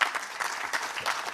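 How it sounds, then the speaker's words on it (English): A conference audience claps in a brief burst of applause, the individual claps audible as a busy, uneven patter at moderate volume with no speech. "I think that calls for applause"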